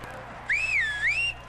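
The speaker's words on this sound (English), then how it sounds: "Why are you whistling like that?" A single whistled tune rises and dips in a wavering, siren-like glide for under a second, clear against a quiet background hum.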